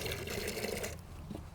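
Water pours for backyard chickens, a brief close splash and gurgle of liquid filling a container that fades out after about a second.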